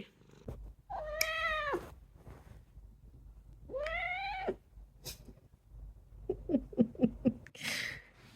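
A hungry cat waiting for its breakfast gives two long, drawn-out meows, then a quick string of short chirpy mews, close and fairly quiet, with a breathy noise at the end.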